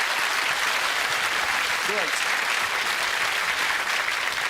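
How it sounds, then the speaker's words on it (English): Studio audience applauding actor Colin Baker on a TV game show, a steady, dense wash of clapping filling the whole stretch, with a brief word of speech over it. "Give him a round of applause and good luck with what you're doing."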